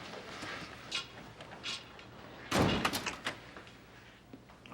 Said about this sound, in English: Close the door, Tony.